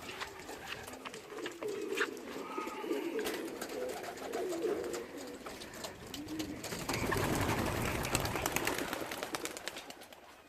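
Racing pigeons coo softly at a loft during junior training, with a steady murmur of birds close by and a fuller rustle of wings and calls building toward the end.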